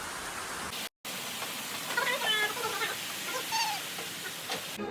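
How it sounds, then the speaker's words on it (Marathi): Heavy rain falls outdoors as a steady, dense broadband hiss that holds for the whole stretch, broken only by one brief dropout, with a few faint chirps rising above it. "मस्त पाऊस पडतोय"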